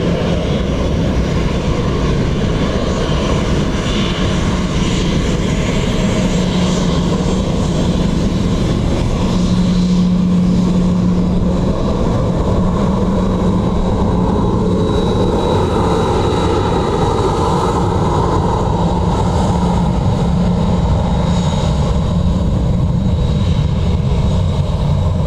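A KLM airliner arriving from Amsterdam at Dublin Airport, a loud sustained engine roar and rumble that holds steady for the whole stretch, close by with no talk.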